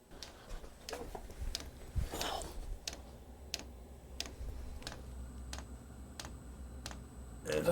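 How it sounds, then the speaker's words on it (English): A diesel heater's fuel pump ticks in sharp, evenly spaced clicks roughly every two-thirds of a second, crisp and close over a faint background hum, with a brief soft rustle near the start. "Pump's just started clicking."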